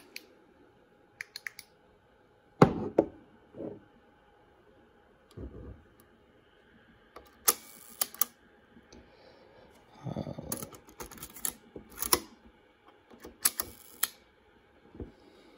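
Sharp mechanical clicks of a Voigtlander Vitessa T camera shutter with the back removed, at 1/4 second and bulb, scattered singly and in short bursts with quiet gaps between, close up.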